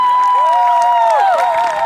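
An audience at a Marathi comedy show claps and cheers loudly and steadily, a dense crowd wash with bright, wavering tones layered over it.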